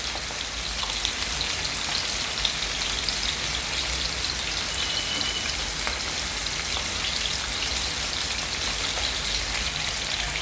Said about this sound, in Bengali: এখন লাল লাল করে আন্ডাগুলো ভেজে নেব।